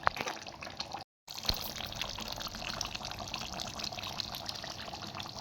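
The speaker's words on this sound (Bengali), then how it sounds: "মাংসটা আমি ভালোভাবে ফুটিয়ে নেব।" Chicken meat boiling in a pot for restaurant-style methi chicken: a quiet, continuous bubbling and liquid churn, broken once by a brief silent gap, then steady again.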